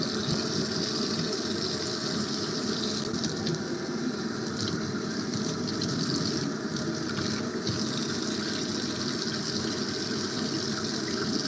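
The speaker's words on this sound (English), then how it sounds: "Wash most of the baking soda out." Tap water running steadily to rinse baking soda out, a continuous close hiss and splash with no pauses.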